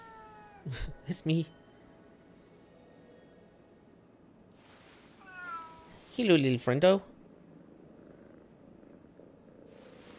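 A cat in the video game Ghostwire Tokyo meows twice in short bursts, then gives a longer warbling purr-meow, close and clear, with someone speaking softly in between.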